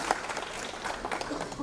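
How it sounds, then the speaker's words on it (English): Audience applause at a community awards ceremony for school programs, a short burst of dense clapping from a crowd, steady and moderately loud throughout. "give a round of applause for our"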